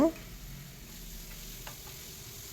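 Soft, even sizzle of radish sautéing in a little oil with turmeric, with a brief clink near the start and a faint tap midway. No talking.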